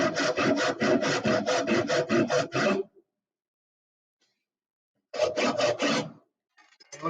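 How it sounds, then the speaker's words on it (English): Wood is cut about a quarter inch deep in a run of fast, rhythmic rasping strokes. A pause of silence follows, then a second, shorter burst of strokes, close and fairly loud. "Cut down about 1/4 inch deep into the wood."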